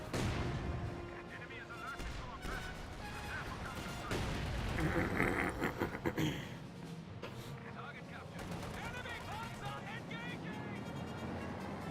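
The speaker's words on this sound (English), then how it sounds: "We got now a barrage into the garrison there." An artillery barrage in the strategy game Company of Heroes 2 rumbles in a cluster of heavy booms and blasts, with a commentator talking over the battle noise.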